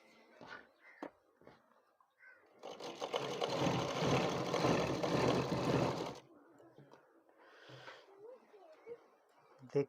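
A sewing machine stitches a suit in a single loud, steady burst of about three seconds, with softer handling sounds and faint voice before and after.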